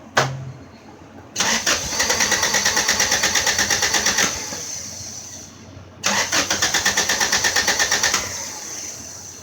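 A flooded car engine, treated with an injector cleaner, cranks in two long rhythmic bursts of fast chugging pulses with a short gap between, loud and close.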